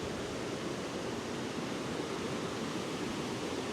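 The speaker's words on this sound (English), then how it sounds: "this is the Horse Pasture River. It flows down to Lake Jocassee" The Horse Pasture River, flowing down toward Lake Jocassee in the Jocassee Gorges, gives a steady, dense rush of moving water that holds even and unbroken from start to finish.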